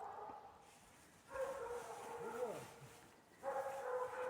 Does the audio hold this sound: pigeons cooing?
no